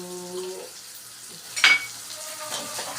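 Onion, ginger and garlic frying in a pan for a tempering, a soft continuous sizzle with a brief stirring clatter midway, moderately quiet and without talk.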